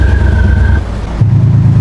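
A loud, brief burst of simulated BMW M4 exhaust sound, played through a Volkswagen Amarok diesel pickup, rasps at high revs, then drops abruptly to a deep, rumbling low idle.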